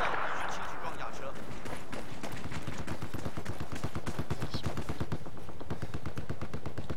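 Sustained automatic gunfire in Battlefield 4 rattles in rapid, closely spaced bursts through most of the stretch, loud and continuous, with voices talking over it.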